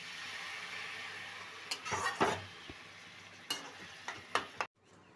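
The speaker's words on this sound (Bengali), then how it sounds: "কষানো হয়ে গেছে এবার একটু জল ঢেলে দিচ্ছি" Water is poured into a frying prawn and banana flower curry, and the hot pan sizzles with a steady hiss, joined by bursts of bubbling and spoon scrapes before the sizzle abruptly drops away near the end.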